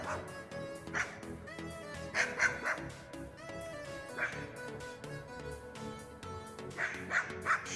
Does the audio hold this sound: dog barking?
yes